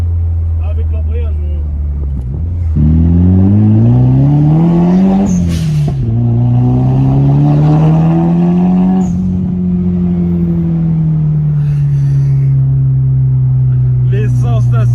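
A Nissan 200SX S13 engine revs and accelerates from a low idle into a rising roar, then holds a high, steady drone with brief dips between gears. Voices chat briefly over the loud, close engine.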